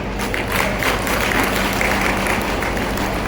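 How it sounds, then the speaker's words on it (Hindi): A crowd at a Ladli Behna Raksha Bandhan festival gathering in Manas Bhawan, Shivpuri, claps in a loud, dense, close burst that fills the short moment evenly. "तालियां थोड़ी कम बजी"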